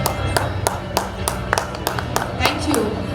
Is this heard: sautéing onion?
no